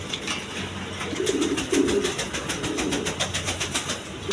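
Big King pigeons coo in soft, low, repeated rolls, close by and fairly loud over a steady background hum.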